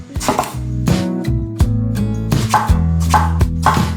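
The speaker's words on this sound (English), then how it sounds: "Next, cut up 2 medium-sized eggplants." A knife chops through medium-sized eggplants on a cutting board for a Filipino binagoongan pork dish, giving crisp, close, uneven thuds in short clustered bursts with brief pauses between them.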